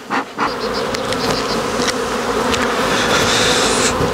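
Honeybees, drones among them, buzzing at a hive entrance during spring, a dense continuous loud drone of many wings close by with individual bees passing.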